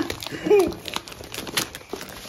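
Plastic packaging from a Wildberries order crinkles and rustles in bursts as it is unpacked, close and fairly loud, with a brief voice-like sound near the start.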